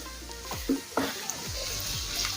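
Potato filling fries in a pan, a steady close sizzle broken by several scraping stirs of a spoon or spatula across the pan.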